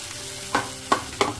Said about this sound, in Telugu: ఈ టమాటో పచ్చడి అందులో వేసి బాగా కలబెట్టుకున్నాము